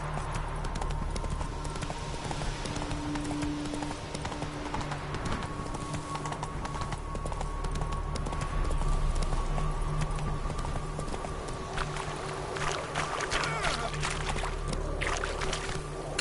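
Horse hooves galloping in The Witcher 3 video game, a steady rapid clip-clop rhythm over a constant background rumble, with a brief shout near the end.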